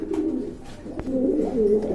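An American lakka pigeon pair coos in soft, low, rolling calls that run continuously up close, with a faint click midway and no talking.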